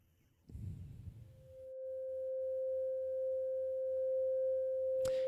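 A steady synthesizer tone from a VCV Rack modular patch holds evenly after a short burst of noisy rumble, with a faint click near the end; no speech over it.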